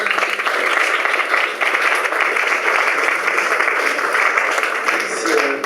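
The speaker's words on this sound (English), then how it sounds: "Let's give these two guys a big applause." A conference audience at a logistics talk applauds two speakers, a sustained, even wash of clapping from many hands that carries on steadily without pause.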